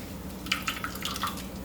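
Coconut milk drips from a cloth of squeezed coconut pulp, a handful of small, quiet, irregular plinks close by over a faint low background.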